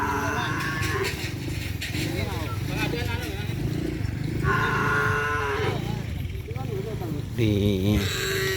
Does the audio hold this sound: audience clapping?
no